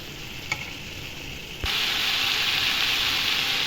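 Peas and kheema frying and sizzling in a pan while being stirred, a steady close hiss that gets louder partway through after a soft clatter.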